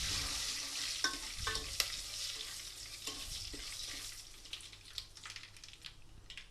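Garlic cloves, cumin, dry red chilies and curry leaves sizzle steadily in hot oil for a Telugu tamarind-leaf dal tempering, with a few sharp spoon scrapes and stirring clinks over the continuous frying hiss.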